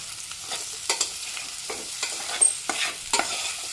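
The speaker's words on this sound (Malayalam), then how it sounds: "ഇനി നമ്മൾക്ക് ഇതിലേക്ക് നമ്മൾ തയ്യാറാക്കി വെച്ചിരുന്ന സവാള കട്ട് ചെയ്തത് ഇട്ട് കൊടുക്കണം" Sliced onions fry in a pan while a utensil stirs them in scraping bursts over a soft steady sizzle, cooked for a Kerala koottukari curry, with no talking.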